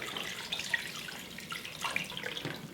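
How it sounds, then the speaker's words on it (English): Tap water running into a cooking pot with beef tongue, a soft steady splashing and trickle, fairly faint and close, with no talk. "And then we're just going to add water."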